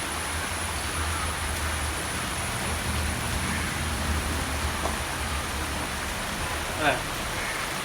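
Heavy rain falls in a steady, even hiss that fills the whole stretch, with a single brief louder knock near the end.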